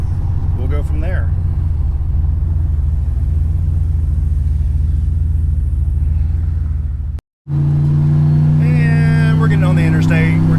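A car with a front end sitting too low drives onto the interstate, its steady road rumble and engine drone continuing loud and close, with brief talking near the start and near the end and a short cut in the middle.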